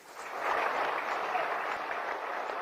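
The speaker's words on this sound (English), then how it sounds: "Please step forward and give him a round of applause." An audience at a state reception for the victorious Super Falcons women's football team applauds their captain, clapping that swells in quickly and holds steady at moderate level.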